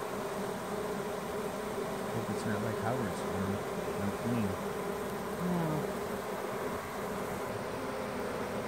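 Honeybees fan and buzz at the entrance of a hive as they drape into it, a dense, continuous drone close by, with individual bees whining in and out over the steady hum.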